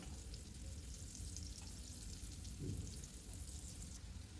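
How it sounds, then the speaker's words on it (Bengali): Pieces of elephant foot yam fry in hot oil in a wok, giving a faint, even, crackling sizzle throughout, with one soft thump near the middle and no talking. "সবগুলোকে আমি উল্টে পাল্টে ভেজে নিচ্ছি একটু লাল লাল করে"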